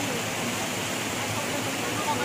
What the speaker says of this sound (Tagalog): So, ito yung pinakamaganda sa mga falls.